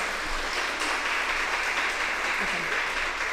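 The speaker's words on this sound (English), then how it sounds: "give them a round of applause" An audience at an elementary school step-up celebration claps for the school's scholars, a continuous, fairly loud wash of hand-clapping that stays steady throughout with some low background rumble.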